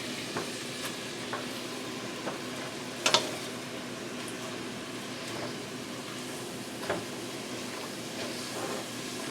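Fettuccine noodles are stirred through a creamy alfredo sauce in a pot, a steady soft sizzle and wet scraping that continues throughout, with a few sharper clinks of the utensil against the pot.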